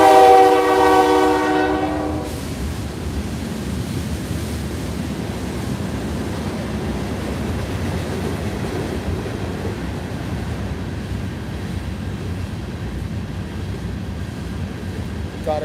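A train horn sounds loudly for about two seconds, then the rumbling roar of the passing train carries on steadily for the rest of the stretch, with a washing, surf-like noise mixed in.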